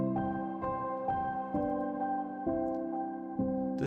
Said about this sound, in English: Then we have another piano sound that sounds like this with the chords.